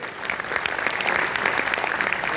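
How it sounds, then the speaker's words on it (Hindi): An audience at a network marketing celebration event in Bharatpur, Rajasthan, gives a steady burst of loud applause, many hands clapping together without pause. "एक जोरदार ताली होनी चाहिए"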